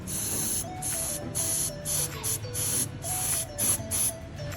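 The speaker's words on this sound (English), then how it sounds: "We just go ahead and spray it." Short repeated bursts of aerosol spray paint on a plastic model kit part, about nine hissing puffs in quick succession, close by, with faint background hum.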